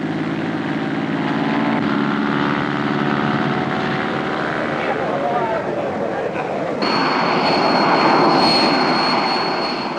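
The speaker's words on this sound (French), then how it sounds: "Un avion d'acrobatie, le Cap 20." A Cap 20 aerobatic airplane flies at an air show with a loud droning propeller engine whose pitch shifts as it passes, its tone changing abruptly partway through, with a voice talking over it.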